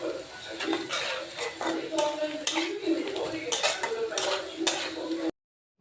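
Onions with salt fry in a pan for a mutton curry, a spoon or spatula scraping and clinking against the metal in repeated strokes over a soft sizzle, fairly close, ending suddenly.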